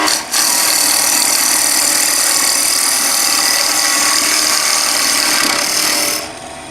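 Skew chisel cutting into wood spinning on a lathe, with the bevel angled straight in, giving a continuous loud close hiss and rasp that holds steady for about six seconds before stopping abruptly.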